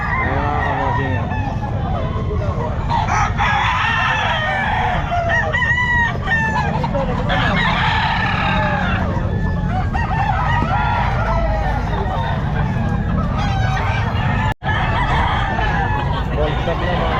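Roosters crowing repeatedly with clucking and other fowl calls at the Calumpit pet market in the Philippines, a dense, continuous chorus of birds near and far, with people talking underneath.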